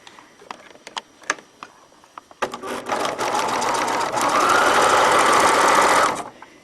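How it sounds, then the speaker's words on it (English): Sewing machine stitching napped velvet fabric with no pins holding it, a few light clicks first, then a loud steady run of motor whir and needle chatter lasting several seconds before stopping abruptly. "I'm going to show you what happens if you sew this without any pins"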